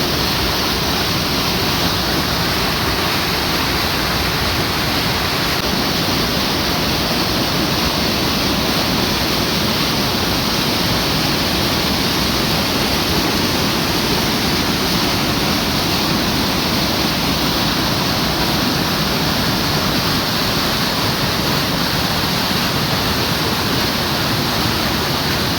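After days of heavy rain, floodwater rushes strongly in a loud, continuous, broadband roar that stays steady and close throughout, with no pauses and no talk.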